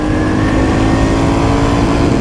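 Royal Enfield Classic 350 motorcycle accelerating in second gear, its engine roaring loud and close with a steady, dense note over about two seconds and no voices.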